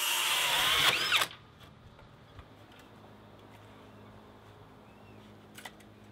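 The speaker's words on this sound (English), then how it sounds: "I just gotta drill a hole into here somewhere." Power drill boring a hole aboard a sailboat during a DIY watermaker install, a loud high whine for just over a second that cuts off abruptly, followed by quiet room tone and a brief later click.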